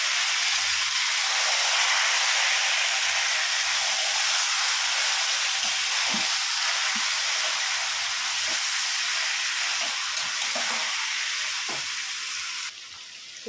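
Marinated young goat mutton hits a hot pot for a Bengali mutton curry, giving a loud, steady broadband sizzle and hiss that holds for the whole stretch with soft stirring ticks, no voices.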